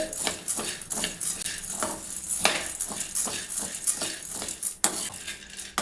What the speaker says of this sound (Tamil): பொட்டுக்கல்லையை லைட்டாக வறுத்துக்கலாங்க, ரொம்ப வறுக்கக்கூடாது